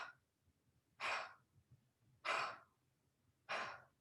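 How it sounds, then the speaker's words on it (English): Three forced exhales through the mouth during a breathwork exercise, each a short breathy whoosh spaced about a second and a half apart, close and alone in a quiet room. "So you'll just do forced exhales through the mouth and hold the hand on the belly."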